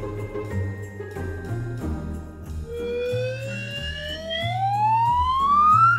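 A toy police car siren in a children's cartoon rises in a bright, sweeping wail over a bouncy, jingling musical backing, growing louder toward the end.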